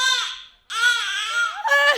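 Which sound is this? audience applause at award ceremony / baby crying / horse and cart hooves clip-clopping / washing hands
baby crying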